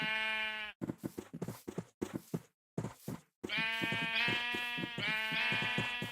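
Sheep in the video game Zombie Craft bleat close and clear: a long bleat, then a choppy cluster of short bleats with brief gaps, ending in two long sustained bleats.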